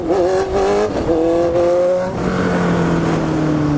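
Honda CB 650F motorcycle on a street revving hard, its engine note climbing and shifting through gears in a loud, close, continuous roar that then settles into a steady drone, with no voices.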